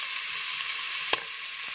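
Onions sizzling in hot oil in a pan, a steady bright hiss with one sharp crackle partway through, close and fairly loud, no voices.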